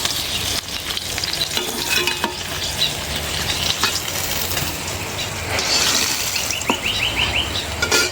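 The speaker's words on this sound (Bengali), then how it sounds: "হয়ে গেল আমার মাছ ভাজা।" Fish fries in plenty of oil with a loud, dense, continuous sizzle and crackle close by, with occasional spatula scrapes and taps in the pan and no talking.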